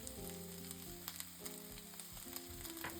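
Japanese fried rice (chahan) with salt and black pepper stir-fries on high heat, a faint continuous sizzle with light scraping under soft background music.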